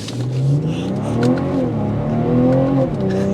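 A 2023 BMW M340i, 382 horsepower, launching hard from a standstill, its engine note climbing steadily through the revs with a brief shift, loud and close from inside the car.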